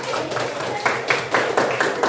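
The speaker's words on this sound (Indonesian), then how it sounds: "Ya, tepuk tangan." Children clap their hands together in a classroom, a quick run of sharp claps blending into brief applause, with a murmur of voices underneath.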